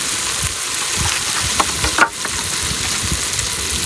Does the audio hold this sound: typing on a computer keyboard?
no